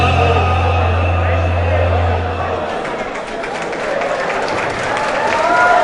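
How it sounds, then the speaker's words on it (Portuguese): An audience at a tribute music show in a club claps and chatters, a low hum fading out before scattered clapping and crowd murmur build again, with voices talking through it. "Mais aplausos"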